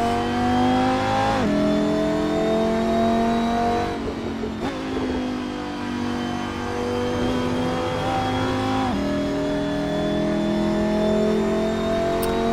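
A race car engine in Assetto Corsa Competizione holds loud, steady high revs, with brief dips at each gear shift before climbing again, close and constant with no talking.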